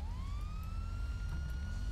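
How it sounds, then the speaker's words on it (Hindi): A police car siren wails steadily in GTA 5, a continuous rising tone that stays loud and close throughout, with a deep rumble of engine and traffic underneath. "ओ, ये पीछे से पुलिस आ गई यार"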